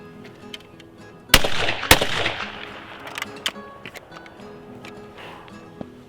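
A 20 gauge shotgun firing a reloaded Federal shell, two sharp loud reports close together followed by fainter handling clicks and knocks.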